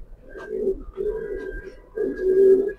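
Short-tailed pencil-balance pigeons coo in three low, throaty bursts, close and clear, with a short pause between each phrase and no talking.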